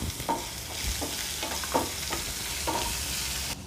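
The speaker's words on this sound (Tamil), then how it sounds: "உளுத்த பருப்போடைய இந்த முந்திரி பருப்பு சேர்த்துக்கலாம்" Cashews and urad dal fry in hot oil in a pan for rava idli, a close, steady sizzle broken by several short scraping strokes of a spoon stirring.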